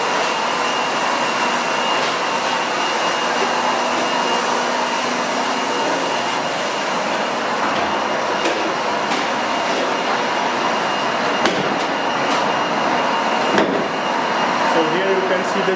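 Large vinyl record grinder shredding black records for recycling in a record-pressing plant, a loud continuous machine roar with rattling and clattering throughout, and faint voices in the background.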